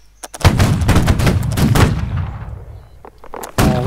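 Loud, close gunfire right after a fire command, with a rapid volley of cracks followed by a pause and another sharp shot.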